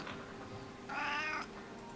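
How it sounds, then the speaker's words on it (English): A pet cat lets out a single drawn-out meow, clear and fairly close, with a quiet room around it and no talking. "What does the kitty say? Meow."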